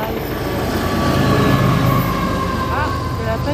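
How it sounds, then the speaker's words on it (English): A long CN freight train rumbles steadily through a tunnel in Kingston, Canada, loud and close with continuous rolling wagon noise and brief metallic wheel squeals near the end. "It's a long train"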